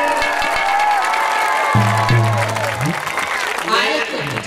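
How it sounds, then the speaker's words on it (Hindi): Audience clapping during a Hindi religious discourse about Lakshman, Ram and a jaimala garland, sustained applause mixed with crowd noise and talk, with some loud tonal sounds in the middle. "ताली तो बजा दे।"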